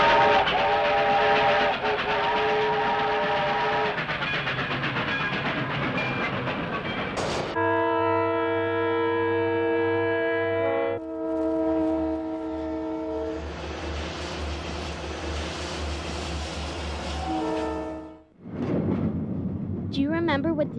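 A toy train runs with a rumbling roll, then a sustained whistle blows loudly over it before the running noise resumes and fades out.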